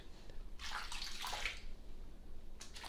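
Water sloshes in a bubble bath, a burst of splashing and swirling at close range in the middle, then quiet ripples and a brief final slosh.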